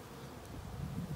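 Honeybees buzzing around a hive during an inspection, a low droning hum with a few louder passes as bees fly close to the microphone, brief and without talk.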